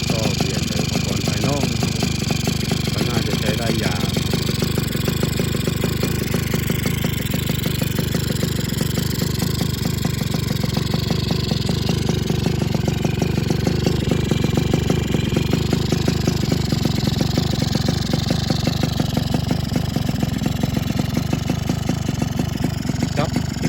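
A Suzuki Crystal motorcycle engine, revived after sitting unused for a year, idles with a steady low rumbling putter, running continuously close by, with a voice talking over it.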